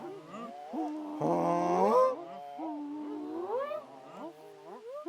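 A human voice imitates a Canada goose call with the mouth, a run of breaking, honking yelps that rise and fall, one louder burst partway through.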